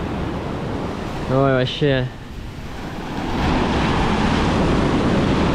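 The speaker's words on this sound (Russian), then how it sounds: "Волна, когда туда уходит, конечно, затягивает достаточно сильно." Sea waves rolling onto Cleopatra beach in mid-December, a broad steady wash of surf, loud and close, with wind noise and a short spoken remark over it.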